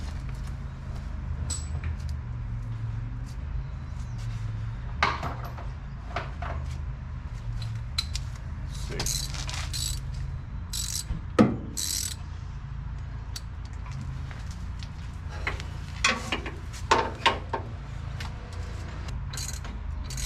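A socket ratchet turning a bolt in and out to clean threads on a Harley engine, faint scattered clicks and metallic ticks spread over a steady low background hum.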